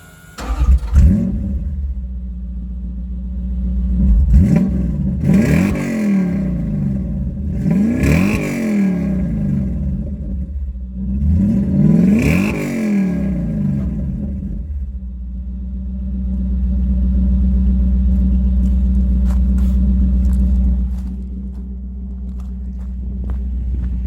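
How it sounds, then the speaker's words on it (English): A Toyota 1UZ V8 swapped into a two-wheel-drive Hilux pickup running Megasquirt revs hard three times, each blip rising and falling sharply over a loud, steady idle, then settles back to idle with a slight swell late on. "So we always want to know what that 1UZ sounds like."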